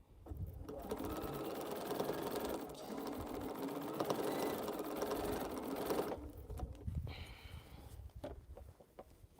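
A sewing machine stitches quilt rows together, running in a long steady whir for several seconds, then stopping and starting in shorter bursts, quiet and close by.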